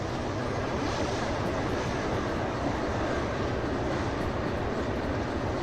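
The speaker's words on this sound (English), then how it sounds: "Man, I really like the sound the train makes when going high speed" A locomotive hauls a heavy train at high speed in the Derail Valley video game, producing a loud, steady, dense roar of rolling wheels and rushing noise that holds constant throughout with no voices.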